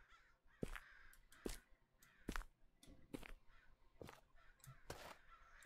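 Video-game crows caw repeatedly, harsh calls spaced about a second apart over a quiet background.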